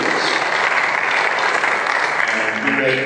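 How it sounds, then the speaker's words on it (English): A convention audience at a real estate brokers' gathering claps for a congressman's remarks, a sustained dense burst of applause at steady loudness, with faint voices underneath. "y'all clap for that."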